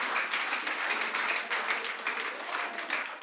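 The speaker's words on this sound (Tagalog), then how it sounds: "Pumalakpak lahat na naniniwala kay Jesus." A church congregation claps for Jesus in steady, dense applause throughout, a sustained crowd of many hands at an even level.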